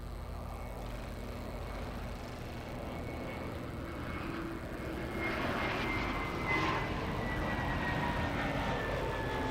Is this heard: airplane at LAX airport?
yes